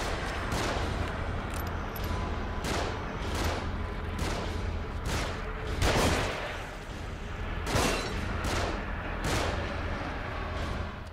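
Sniper shots in The Evil Within land as heavy, booming reports every second or so, loud and close, each trailing into a rumbling tail, with no talking.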